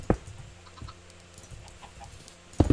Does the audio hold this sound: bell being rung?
no